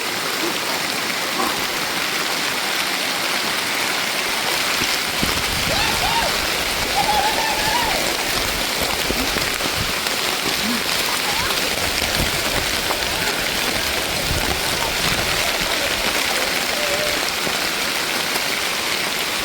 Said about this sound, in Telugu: అరే ఇక్కడ వర్షం పడుతూనే ఉంటది మాన్సూన్ మొత్తం